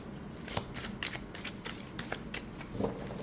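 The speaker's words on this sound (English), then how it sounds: "let's also do a side shuffle" Rapid papery riffling of an oracle card deck being side-shuffled, a dense run of soft flicks and slaps up close, with no voices.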